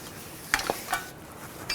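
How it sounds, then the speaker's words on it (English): A rag wipes a brake rotor on a 2007 Chevy Silverado 1500 Classic after brake parts cleaner, a few quiet brief scuffing strokes over low background hiss. "Just wipe it down with a rag."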